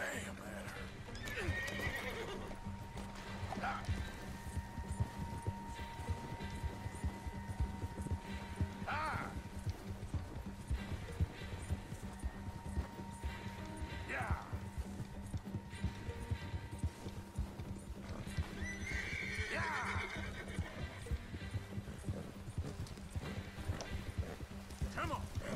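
In Red Dead Redemption 2, a horse's hooves clip-clop at a steady gallop while the horse lets out several loud whinnies, with people talking throughout.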